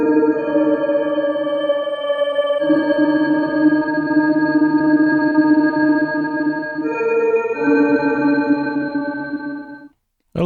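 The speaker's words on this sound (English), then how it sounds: "And we can apply a filter to this." A MicroDexed six-voice polyphonic synthesizer plays sustained, harmonically rich chords through a filter, shifting between held tones in a few distinct steps before cutting off abruptly near the end.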